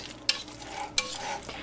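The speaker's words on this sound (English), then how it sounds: "then we're going to dump this into our pan" Shredded chicken, parsley and peas being tipped into a frying pan for chicken pot pie, with a few sharp clattering scrapes and soft sizzling between them, close and fairly loud, with no talking.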